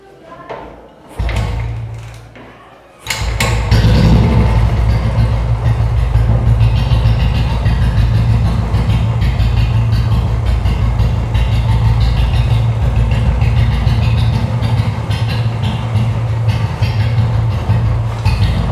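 A Royal Enfield Bullet motorcycle with a charging problem is started after a few brief attempts, then settles into a loud, steady, deep thumping idle that runs close and unbroken.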